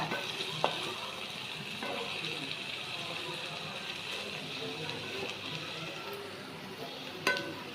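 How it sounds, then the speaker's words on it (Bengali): Potato and eggplant frying lightly in a pan make a soft, steady sizzle with occasional clinks of a utensil against the pan. "তো এটা আমি হালকা ভেজে নিব বেশি ভাজবো না"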